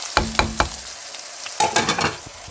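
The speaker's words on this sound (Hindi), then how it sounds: "इसमें हम ये प्याज टमाटर शामिल कर देंगे।" Chopped onion and tomato hit sizzling masala in a pan, setting off a loud hiss and crackle in two bursts of popping, with stirring in between.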